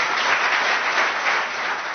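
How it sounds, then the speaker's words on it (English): Applause from an audience welcoming panel speakers at a discussion on judicial activism, dense and even clapping that holds steady at moderate loudness for the whole stretch. "please give them a round of applause as I welcome them"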